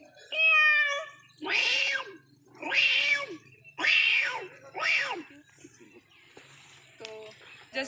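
A human voice imitates a cat, giving one short mew followed by four drawn-out meows in a steady rhythm, close and clear.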